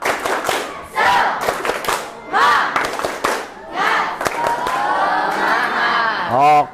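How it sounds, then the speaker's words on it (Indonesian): Students in a classroom perform the tepuk semangat spirit chant, bursts of rhythmic clapping interleaved with loud shouted group calls, in several short rounds. "Tepuk semangat."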